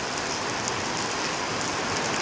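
Heavy rain pouring down hard, a dense, loud, unbroken hiss of drops hitting surfaces up close, with no voices.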